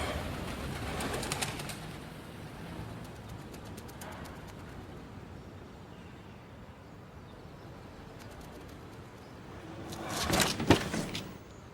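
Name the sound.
pigeon cooing and flapping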